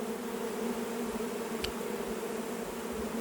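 Honey bees buzz inside a hive in a continuous, even drone, with a brief sharp click partway through and no talking.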